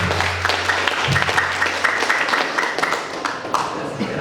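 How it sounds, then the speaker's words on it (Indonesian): An audience of a Dompu cultural gathering applauding, a steady wash of many hands clapping in a room, with a voice speaking over it. "tolong memberikan aplaus kepada kita semua sebagai suku Dompu"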